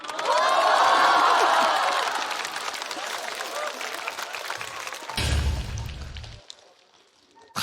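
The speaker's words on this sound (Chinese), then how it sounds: "鼓掌！" A stand-up comedy audience bursts into loud applause and cheering, peaking early and then tapering off, followed by a brief deep thump and a near-silent moment.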